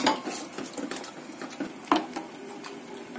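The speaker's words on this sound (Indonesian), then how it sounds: "Kemudian kita rebus sambil terus kita aduk supaya santan tidak pecah ya" Coconut milk with pandan leaf being stirred in a pot while it comes to a boil: soft irregular scraping and clinks of a spoon against the pot, with one sharper knock midway, close and fairly quiet.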